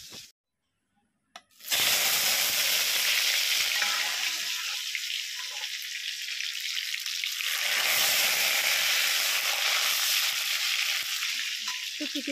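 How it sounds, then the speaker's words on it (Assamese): Fish fries slowly in a pan over low heat, a steady close hiss of sizzling oil after a brief silent start, with faint clinks. "লাহে লাহে ভাজিছোঁ জুইটোও কমাই"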